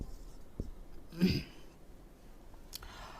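A pen or marker scratches briefly while writing out a maths solution, one short burst of strokes in a quiet room with faint clicks.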